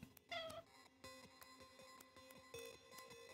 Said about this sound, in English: Who's making meow sounds?